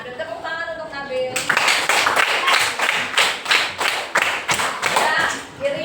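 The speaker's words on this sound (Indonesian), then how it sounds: "Nah, tepuk tangan untuk Nabil." A classroom claps for a student: after a brief spoken line, loud, close, rapid applause from many hands breaks out and carries on steadily for several seconds.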